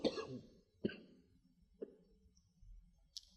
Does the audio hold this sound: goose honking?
no